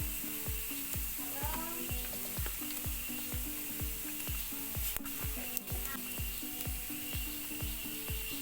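Coriander and chili powder roasting in a pan for pork kappa biryani: a continuous loud sizzle cut by regular rhythmic scraping strokes of a spoon, roughly two per second, up close.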